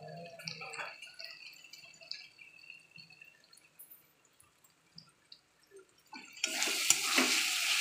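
A spoon stirs a cumin-dusted masala paste frying in a pan, with soft scraping and light sizzling that builds into a louder, steady hiss near the end.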